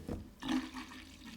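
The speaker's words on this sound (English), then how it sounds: "Pour the chemicals into the container." Liquid chemicals poured into the container of a Vikan foam sprayer, a short splashing, gurgling pour heard close and fairly quiet, with no talk.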